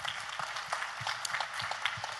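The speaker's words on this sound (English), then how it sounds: "everyone give a round of applause for these other incredible young people in the audience" Audience applause at a youth panel during a Native American nutrition conference, a steady, moderately faint wash of many hands clapping from a distance, continuous throughout with no distinct voices.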